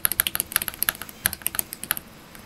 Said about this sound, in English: Space bar feels a little bit funky, and I probably would replace this switch.